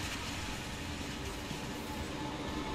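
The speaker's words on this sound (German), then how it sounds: "da kommt tatsächlich noch ein Regio daher" A regional train arrives in the video game Transport Fever 2, a steady low rumble of rolling rail cars with a faint rhythmic clatter, heard fairly quietly.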